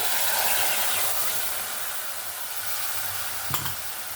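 A mustard-poppy paste thinned with water and mixed with yogurt hits a hot pan for a mustard hilsa dish, giving a loud, steady, broad sizzle and hiss that eases slightly, with a brief clink toward the end.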